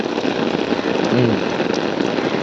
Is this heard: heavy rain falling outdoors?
yes